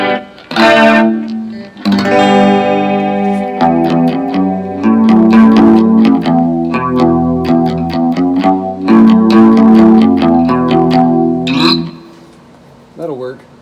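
Loud electric guitar chords and picked notes are played through the built-in chorus effect of a Carvin SX200 guitar amplifier, giving a shimmering, slightly wavering tone, with short gaps between phrases before the sound fades away.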